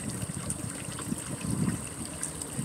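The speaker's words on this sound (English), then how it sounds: "3 outlets spitting out a lot of water" Three pond pump outlets spit water into an above-ground pool, giving a steady close splashing and trickling wash with a faint high hum throughout.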